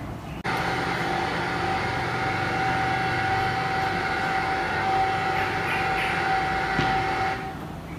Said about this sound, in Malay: Saya dapat mendengar dengan jelas bunyi sebuah kapal terbang.